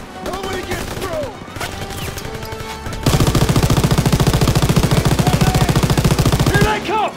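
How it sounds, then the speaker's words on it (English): Heavy machine gun fire in Call of Duty WW2 on the Normandy beaches: loud, continuous automatic bursts that start after a few seconds of battle noise and shouted voices, then hammer on steadily to the end. "Open fire! Somebody get on the MG!"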